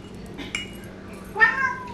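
A house cat lets out one short, close meow near the end, following a faint clink like dishes in a quiet room.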